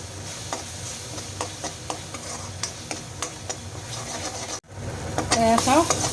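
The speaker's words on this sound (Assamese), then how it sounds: "এইখিনি এতিয়া ভালদৰে লৰাই ল'ম।" Onions and tomatoes fry in a pan with turmeric while a spoon stirs them, giving regular scraping clicks over a steady sizzle, then a louder burst of sizzling after a short break.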